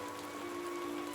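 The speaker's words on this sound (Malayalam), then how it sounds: "മഴ കനക്കുന്നുണ്ട്" A cartoon sound effect of heavy rain gives a brief, dense, even patter of pouring rain with a faint steady tone underneath and no voices.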